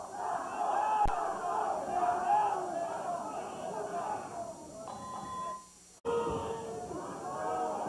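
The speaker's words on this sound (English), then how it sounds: "and the crowd into it here" Arena crowd at a live world-title boxing match in Campione d'Italia roars steadily as a round nears its end, a dense continuous cheer that briefly dips before surging back, with a commentator talking over it.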